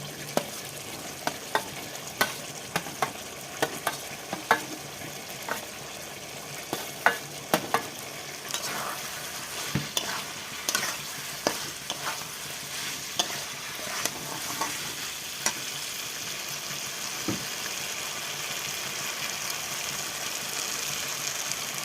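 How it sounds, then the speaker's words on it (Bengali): A spatula repeatedly scrapes and knocks against a pan as fried drumstick stems and potatoes are stirred into spice paste sizzling in oil, irregular close taps over a steady frying hiss for about twenty seconds. "ভেজে রাখা ডাঁটা আলুটা আমি দিয়ে দিচ্ছি"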